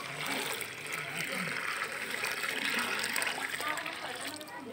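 A bowl of water is poured into a hole in soft dirt, giving a steady, fairly loud splashing trickle that runs throughout with slight gurgles.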